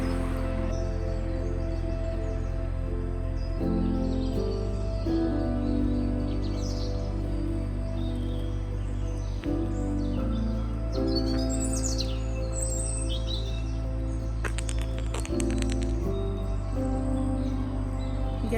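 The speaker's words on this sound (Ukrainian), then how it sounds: "так насолоджуюсь цим співом пташок" Birds chirp and sing outdoors beside a strawberry field in Germany, scattered tweets and short calls over a loud, steady low rumble of nearby traffic and engine hum.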